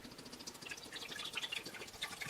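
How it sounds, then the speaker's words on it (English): Bleach poured into a film developing tank, a faint trickling and dripping with small liquid splashes, soft and close, with no voices. "I take the bleach and I pour it into the second tank here"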